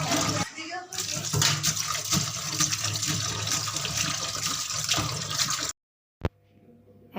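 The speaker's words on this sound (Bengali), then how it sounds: "মাছটা ভালো করে ধুয়ে নিই।" Running water pours steadily while fish is washed, a close, full rush of flowing water that stops abruptly near the end, followed by a short splash and quiet.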